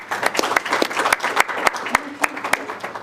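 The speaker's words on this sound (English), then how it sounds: "So give you guys a big a round of applause." An audience at a Startup Grind OKC meetup claps in a steady round of applause, dense overlapping hand claps with a few sharper individual claps standing out, sustained for a few seconds at close range.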